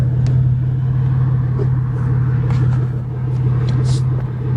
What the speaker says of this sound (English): Rev the engine, slowly release.